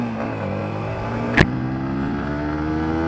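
A Yamaha MT15 150cc motorcycle rides along a ghat road, its engine holding a steady, loud drone throughout, broken once by a sharp click midway.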